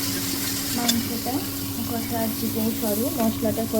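Spice paste (masala) frying in oil in a pan for a chicken curry, with a steady close sizzle and sputter, scraping stirs now and then, and faint voices under the cooking.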